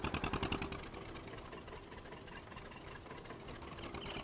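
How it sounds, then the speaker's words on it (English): An old, worn Amazone Pantera self-propelled sprayer idles in Farming Simulator 19, a low, rough, rhythmic engine chug that pulses harder at first and then settles into a steady murmur, with no talk. "Oh, look at the engine sound now."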